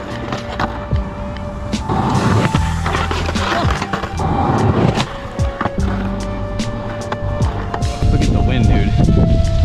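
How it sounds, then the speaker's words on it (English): Skateboard on a Heroin Skateboards Pumpkin Spice Wide Boy deck with Grind King Lockers 2.0 trucks: loud, close wheel roll with rhythmic clacks and rattles from repeated pushes and pops, with wind noise and brief voices mixed in. "We're going to skate some more because I'm finally skating a little bit better."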